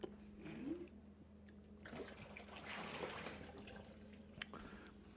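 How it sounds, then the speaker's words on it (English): Hot water is poured out from under a rice steamer basket while making sticky rice, a soft, low splashing and trickling stream that swells midway, faint and continuous. "I'll dump the water out like that, so there's no more hot water underneath of it"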